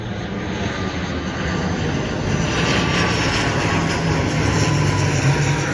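A fixed-wing propeller airplane passes overhead, its engine a loud, steady broadband roar that swells slightly toward the end, heard alone without voices.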